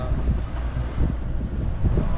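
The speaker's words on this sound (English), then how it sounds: "So we've had some high winds today" High wind buffets the microphone while waves slap through a small harbor channel anchorage in Beaufort, seen from a boat, a continuous loud rushing roar with no one speaking.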